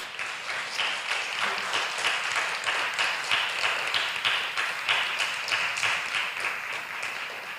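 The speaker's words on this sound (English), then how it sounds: "Can we have a loud round of applause for Poetry Festival Singapore?" An audience at a Poetry Festival Singapore event at the National Gallery of Singapore gives a loud, sustained round of applause, the close clapping dense and steady with slight pulsing swells.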